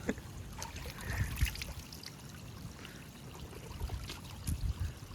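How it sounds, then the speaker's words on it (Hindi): Waterfall water splashes and trickles close by as someone washes face, hands and feet under it on a hill trek, a soft continuous dribble with irregular louder splashes. "तो वो झरने में मुंह हाथ और पैर सब धो रहा हूँ मैं।"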